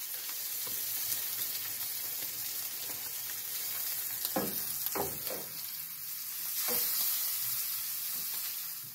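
Continuous sizzling and crackling of plantains frying in a pan, with a few brief knocks or scrapes partway through.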